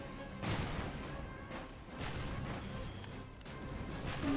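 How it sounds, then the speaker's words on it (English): Airship bombs going off in rapid succession in Airships: Conquer the Skies, a series of heavy booming blasts and crashes at irregular intervals over a continuous rumble of battle noise. "These bombs, whatever they are, I like them."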